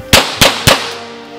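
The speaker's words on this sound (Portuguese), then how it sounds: "O tiro vai lá." Three sharp pistol gunshots crack in quick succession at a tactical combat pistol training course, each loud and close with a brief ringing tail, then quiet with no talk.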